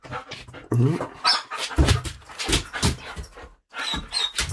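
An excited dog comes into a room, giving short panting huffs and small yips close by, mixed with ongoing human talk.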